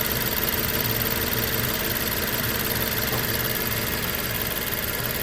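BMW E90 with its engine idling during an electronic water pump and thermostat job, a steady, fairly loud mid-pitched rumble with a faint knock running evenly throughout and no talk.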